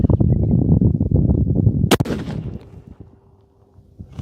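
A Tikka rifle chambered in 7 PRC fires a single loud, sharp gunshot close by, followed by a fading echo. A rumbling, crackling noise comes before the shot.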